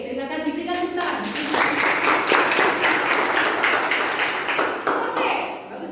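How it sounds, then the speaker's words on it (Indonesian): Classroom students applauding together, brisk and fairly loud rapid clapping that builds after a brief voice at the start, keeps up for several seconds, then thins out at the end. "Berikan tepuk tangan."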